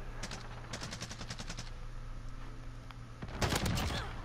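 A video game gun fires in rapid automatic bursts, with quick crackling volleys early on and a louder, denser burst near the end, over steady game ambience.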